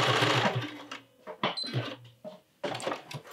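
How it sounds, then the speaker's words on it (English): Sewing machine stitching around a garment neckline, close whirring runs in short bursts separated by brief pauses, including a quick backstitch. "you're gonna put your neckline under the machine. You're just gonna stitch around it."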